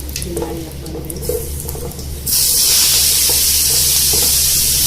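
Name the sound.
grated gourd added to hot oil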